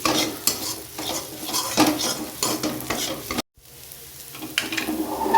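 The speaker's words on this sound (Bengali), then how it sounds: "সব কিছু ভালো করে মিশিয়ে নিতে হবে। খুব দারুণ একটা স্মেল বেরোচ্ছে নাড়াচাড়ার মাধ্যমে।" A spoon stirs and scrapes through egg tadka frying in a pan, with steady sizzling and bursts of stirring, broken by a brief silence before the frying resumes.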